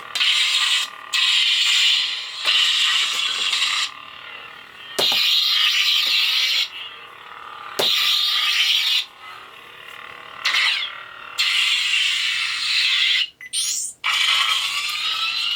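A buzzing, crackling red lightsaber blade hum with the Swarm sound font comes in long stretches, broken by quick swings and sharp clashing hits, loud and close through a 31mm speaker.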